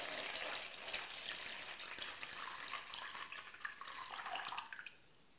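Coconut water pours into a bowl while making creamy cocada, a continuous splashing trickle for about five seconds that then cuts off.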